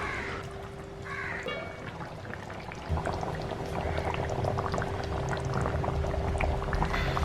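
A pot of pearl spot fish curry bubbling steadily at close range, a dense, continuous simmer that grows slightly louder partway through.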